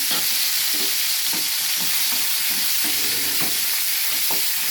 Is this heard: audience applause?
no